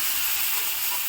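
Onions frying in a pan give off a continuous bright sizzle, steady and close, with no talk over it.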